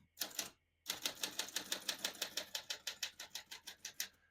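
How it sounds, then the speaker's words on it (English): Keys strike on a 1949 Smith-Corona vintage portable typewriter: two quick taps, a short pause, then an even, rapid run of sharp clacks, close and crisp, with no voices. "all the keys type nice and none of them skip or stick"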